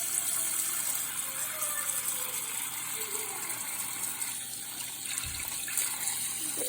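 Cold tap water runs steadily into a small container serving as a pond model, a close, continuous hiss and splash with slight shifts in tone as it fills.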